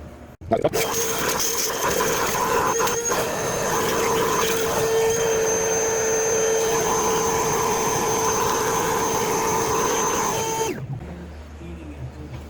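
A vacuum cleaner starts with a thump, runs with a steady loud whine for about ten seconds while cleaning a car engine bay, then switches off into near quiet.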